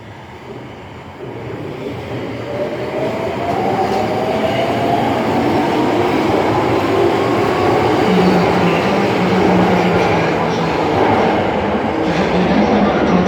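A three-car Tokyo Metro Marunouchi Line subway train at Nakano-fujimicho station gives a loud, continuous rumble that swells slightly and holds steady, with rail noise and a faint rising whine running through it.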